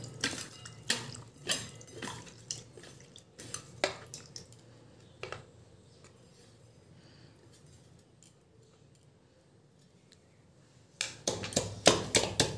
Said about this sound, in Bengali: এবার আমি পানের বোটাগুলো ভালো করে জল দিয়ে ধুয়ে নেব।